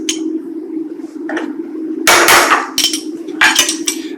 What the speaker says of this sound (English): you get this one, the impactor, and give 2 taps